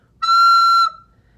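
A recorder overblown into a shrill, piercing squeak, one steady high tone lasting under a second, loud and close with no talking.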